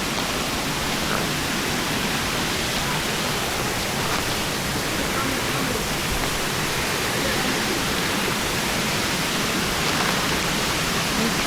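Continuous broadband roar of a waterfall, steady and loud throughout with no breaks, heard from close by in a rural area near home.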